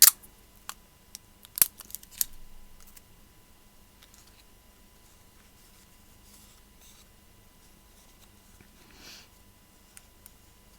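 A few sharp ticks and a brief tearing rasp of tape early on, then quiet small handling sounds, close and faint.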